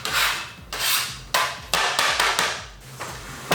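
A scraper drags chopped onions across a board into a soup pot in rough, repeated strokes, each scrape a short burst of gritty noise with quick knocks between, close and fairly loud.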